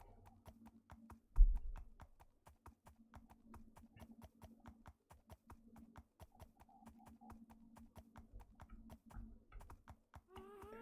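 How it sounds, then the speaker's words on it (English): Donkey hooves clop steadily in a survival video game, a fast even stream of light hoof steps with a couple of louder thumps, and a faint low hum underneath. "Doing this on a donkey is so much slower."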